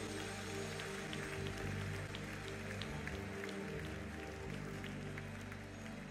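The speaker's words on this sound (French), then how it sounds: "Par l'Éternel, un applaudissement." A church congregation at a worship night claps together in steady, crowded applause that sounds faint and distant, continuing throughout with a low background hum.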